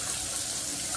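Hot water pours from a kitchen sink tap in a steady, loud, close rush of splashing that continues without a break.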